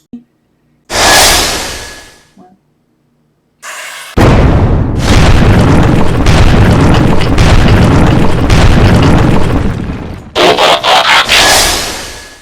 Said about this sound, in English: That sounds like an explosion from a distance.